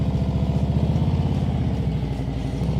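A motorcycle engine rumbles close by in a steady, pulsing idle-to-low rev during slow turn practice, with a slight rise in throttle partway through.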